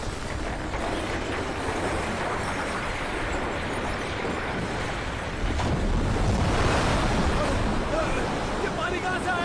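In a movie, a tsunami's water rushes in with a loud, continuous roar and churning surge that swells stronger partway through, with wind-like noise on top.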